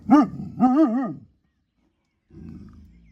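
A Kangal dog gives two loud, close barks with a wavering, howl-like tone, then falls silent before a lower, rougher vocal sound follows.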